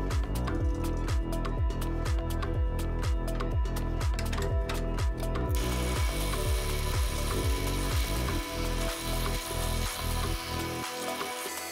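A rhythmic mechanical chattering of a drill press biting into metal to a set depth, with steady repeated strokes, loud and close, then a continuous grinding whir.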